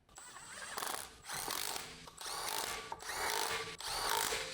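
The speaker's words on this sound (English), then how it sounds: "Using the large 19mm long socket with the large electric impact wrench," Large electric impact wrench with a 19mm long socket snugging lug nuts on a Ford Focus ST, four or five close, loud whirring bursts separated by brief pauses, with no talk.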